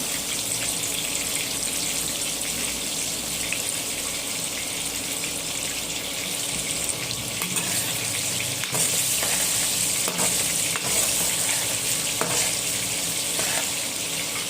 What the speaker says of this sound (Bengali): না আলুটাকে ভেজে নেবো আগে। স্বাদে নিয়ে লবণ আর সামান্য পরিমাণ হলুদ দিয়ে ভেজে নেব।